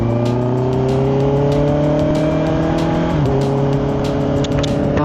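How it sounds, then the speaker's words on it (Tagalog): Road traffic heard from inside a vehicle, a loud continuous engine drone with a shifting pitch and occasional rattling clicks, steady and close throughout. "Traffic."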